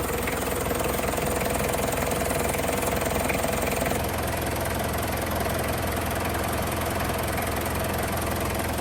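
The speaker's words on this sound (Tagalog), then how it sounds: "ang andar ng makina" A repaired car engine, formerly misfiring, idles steadily with a smooth, continuous rumble and faint rhythmic knocking, close by and without any talking.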